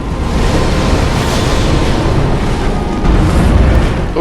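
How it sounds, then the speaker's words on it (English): A heavy explosion attack from the boss Rom in the video game Bloodborne, a loud, sustained booming roar of dense rumbling noise that holds for several seconds with a slight surge near the end. "Oh, that was combined with his explosion attack."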